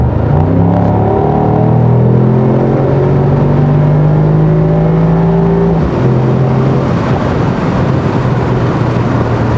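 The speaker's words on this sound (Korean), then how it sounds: "전체적으로 엔진뿐만 아니라 배기음 자체가 커지고," A 2024 Mercedes-AMG SL 63 4MATIC in Sport Plus mode gives a loud, continuous engine and exhaust drone with rising and shifting tones, like a car building revs under acceleration through the gears, heard alone without talk.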